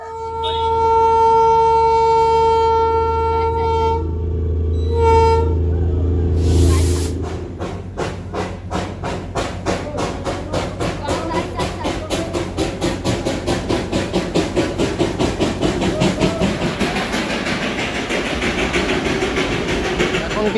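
The Darjeeling toy train's horn sounds with long steady tones, then the train pulls away with rhythmic chugging beats that quicken and grow denser, hissing steam under it, close and loud.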